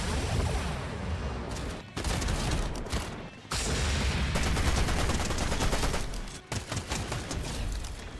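Shotgun blasts in a video game, loud dense gunfire filling the whole stretch with heavy repeated shots and only brief gaps between volleys.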